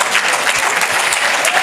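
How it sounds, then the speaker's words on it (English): A lecture audience at a memorial lecture breaks into loud, dense applause for the professor, many hands clapping steadily and close with no voices over it. "Can we please clap hands for Prof?"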